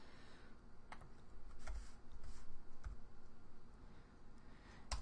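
Computer keyboard typing during a coding session, with a few scattered, soft key clicks over a low background hum, fairly quiet and unhurried.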